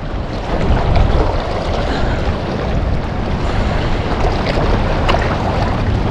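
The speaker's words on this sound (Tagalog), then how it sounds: "Gawa ng malakas yung hangin." Strong wind buffets the microphone on a small fishing boat at sea, with a constant roaring rush and the wash of waves beneath it.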